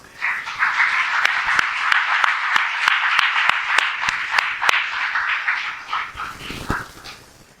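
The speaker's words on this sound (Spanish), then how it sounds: "Dale un fuerte aplauso al Señor." A church congregation gives a loud, sustained round of applause, dense clapping holding steady for several seconds before tapering off.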